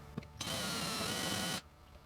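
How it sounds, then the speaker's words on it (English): A power drill bores into an aluminium wheel hex for a WLToys 144001 RC car, one steady high whine of about a second with a soft click just before, close and loud. "Going out of focus when I'm using the drill"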